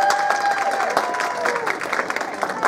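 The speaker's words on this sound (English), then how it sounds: "Let's give them a big round of applause." An audience at an ice skating show applauds young skaters with steady, dense clapping and light cheering from a crowd in an indoor rink, moderately loud throughout.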